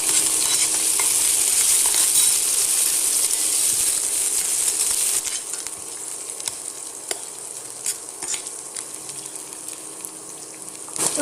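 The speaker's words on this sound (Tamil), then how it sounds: "எல்லாம் நல்லா வதங்கட்டும்." Onion and tomato sauté in a pan with a bright, continuous sizzle that drops to a quieter crackle halfway through, with scattered light stirring clicks.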